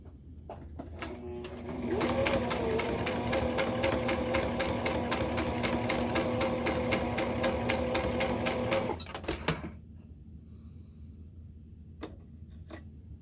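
A sewing machine runs steadily for about seven seconds, a fast even mechanical whir and rattle, stitching along the open edge of a fabric backpack, then stops, followed by quiet handling noises.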